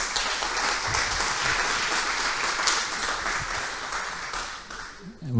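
A demo day audience applauds steadily for about five seconds, a dense wash of many hands that fades slightly toward the end with a few faint voices underneath.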